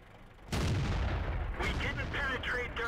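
A Tiger P tank cannon fires in World of Tanks, a single loud, close boom with a long rumbling tail, followed by further mechanical clatter and a voice talking.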